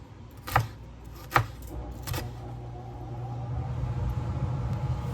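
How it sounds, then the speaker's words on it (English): A knife chops a red pepper into small pieces on a board: three crisp, close cuts spaced about a second apart, then a low rumbling hum takes over. "I'm cutting these pretty small so that they all cook through"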